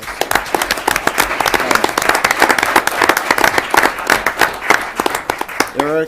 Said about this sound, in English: So let's give them all a round of applause.